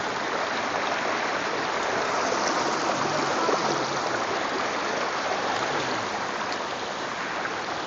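Stream water rushes and splashes continuously at Khoiyachora waterfall in Mirsarai, a dense, steady broadband roar, close and unbroken with no voices.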